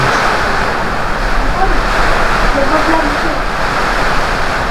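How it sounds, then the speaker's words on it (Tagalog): Heavy typhoon rain and wind roar in a dense, constant wash during Typhoon Kristine, loud and unbroken for the whole stretch with no talk. "Lakas ng ulan, no?"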